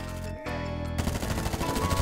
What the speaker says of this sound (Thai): แม่งยิงกันนัวจัดเลยแหละ